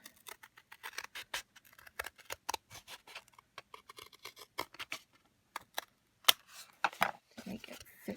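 Scissors snip through cardboard in a quick, irregular series of close, crisp cuts with short pauses between strokes, quiet overall.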